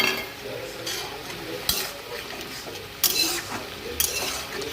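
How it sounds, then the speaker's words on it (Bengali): Lentil dumplings (bori) added to a pot of nearly boiled potatoes and vegetable stems, giving soft stirring and bubbling with a few sharp clinks of utensil against the pan. "এবার আমি এতে বড়িগুলো দিয়ে দেবো।"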